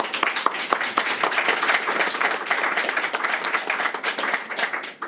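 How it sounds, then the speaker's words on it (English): An audience at a science session on city transformation applauds the presenters with steady, moderately loud clapping that continues for about five seconds before fading at the end. "Applause to all presenters."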